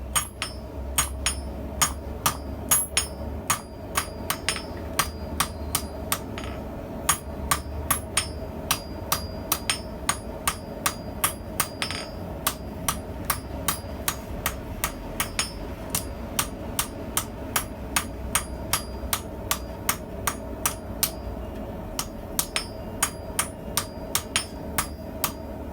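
Steady, rapid hammer blows ring on hot metal held on an anvil hardy cone mandrel while the piece is rotated, a long run of sharp close clanks over a low background hum.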